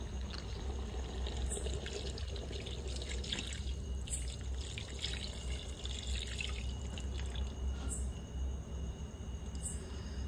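Milk poured into a whole-cauliflower curry, a Rajasthani dish, makes a continuous soft liquid trickle with small drips and splashes over a low steady hum, fairly quiet and with no voices.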